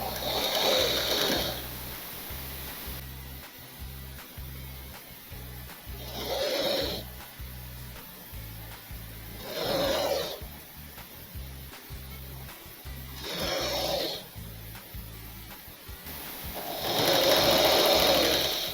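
A sewing machine stitches a petticoat chemise in four or five separate runs of rapid mechanical whirring, each a few seconds long, with quieter pauses and soft handling noise between bursts.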